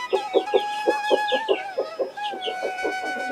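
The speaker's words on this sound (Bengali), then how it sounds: "এগুলো সব হচ্ছে বাহামা মুরগি।" Brahma chickens cluck in a steady, rhythmic run of short calls, several birds close by with overlapping higher chirps above, continuous and fairly loud with no talk.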